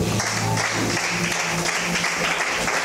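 A church congregation applauds to acclaim the Lord, filling the space with dense, steady clapping from many hands at full strength throughout, with faint murmuring voices underneath.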